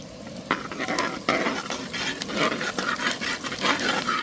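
Fennel seeds and mustard seeds crackle and sizzle in hot oil, with a few sharp pops and light stirring clinks of a utensil against the pan.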